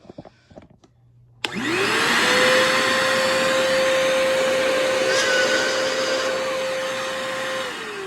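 A Dustbuster handheld vacuum cleaner switches on after a few faint clicks, whining up quickly into a loud, steady motor drone that holds for several seconds.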